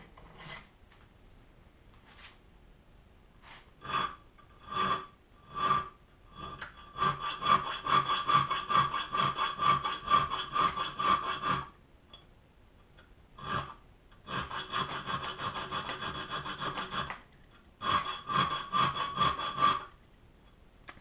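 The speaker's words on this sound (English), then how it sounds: "Next step is to file in the sharpening notch" A metal file cuts a sharpening notch into a hunting knife blade, giving close, rasping push strokes in repeated bursts, some single and some long runs of rapid scraping, separated by quiet gaps.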